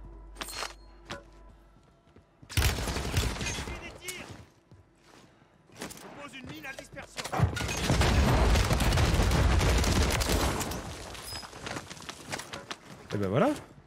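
Gunfire cracks in bursts, with a dense volley of rapid shots building to a sustained loud barrage, then a final burst, while people talk nearby.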